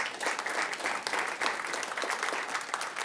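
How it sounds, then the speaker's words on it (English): Steady, full applause from a city council meeting audience in Lee's Summit, Missouri, following a Bike and Walk Month proclamation, continuing evenly throughout. "So give me a round of applause"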